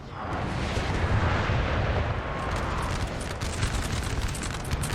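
Artillery fire in a large Napoleonic battle in Napoleon Total War 3: a continuous rumbling barrage of booms and crackling volleys at a moderate distance, steady throughout, with no talking.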